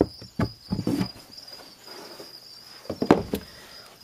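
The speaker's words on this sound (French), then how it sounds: "Donc voilà, là vous voyez les grillons." Freshly hatched crickets in a hatching box chirp with a thin, steady high-pitched trill, close by, while irregular knocks and handling clatter come and go around it.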